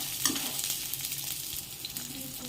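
Green chillies fry in a little oil for vada pav, giving a quiet, steady sizzle with soft crackles and occasional stirring scrapes.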